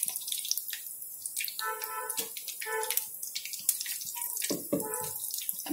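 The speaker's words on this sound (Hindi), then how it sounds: "अभी थोड़ा सा फ्राई हो जाएंगे, उसके बाद हम इसको उलट पलट कर अच्छा कलर आने तक फ्राई कर लेंगे।" Stuffed chili pakoras sizzle and crackle in hot oil, a busy bubbling hiss with scattered pops and spatters running throughout, close and fairly loud, with no voices.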